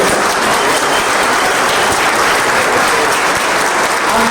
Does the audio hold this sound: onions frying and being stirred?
no